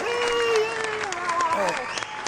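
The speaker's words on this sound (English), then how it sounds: "and the crowd goes wild" Crowd applause, loud and continuous, swells for about two seconds with some cheering and tonal whoops mixed in before tapering slightly at the end.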